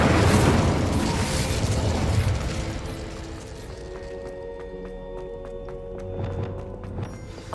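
An Incendio fire spell goes off in Hogwarts Legacy, a loud booming whoosh of flame that roars for about two seconds then fades into a quieter, clinking and humming game ambience, with no talking.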